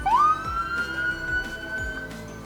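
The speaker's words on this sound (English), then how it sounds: "Sound those sirens. We want to hear a little noise, guys." A loud fire truck siren wails during a Christmas parade, rising quickly then holding a long steady tone, with engine rumble underneath.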